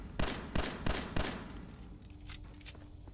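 Gunfire in the video game Fallout: four sharp shots ring out in quick, even succession, each with a short echoing tail, then two fainter, more distant cracks follow after a pause.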